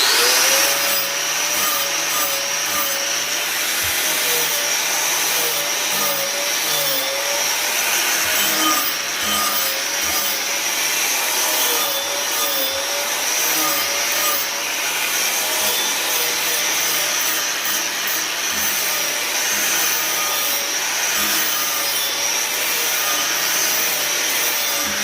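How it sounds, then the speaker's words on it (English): DeWalt DWE402 11-amp angle grinder driving a flap wheel, grinding steadily for the whole stretch, a loud continuous high whine and rasp that dips slightly as it is pushed under load. "here we go with the grinding test for the 11 amp grinder"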